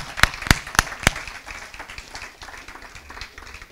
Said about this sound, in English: let's have a round of applause for all of our speakers and our moderators tonight